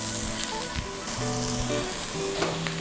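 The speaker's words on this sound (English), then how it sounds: "When your pan is nice and hot, you want to get your vegetables in." Vegetables hitting a hot wok, sizzling and frying steadily throughout with the scrape and clatter of stirring layered over a busy kitchen background, fairly loud and close with no talk.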